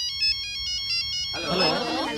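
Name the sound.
cell phone ringtone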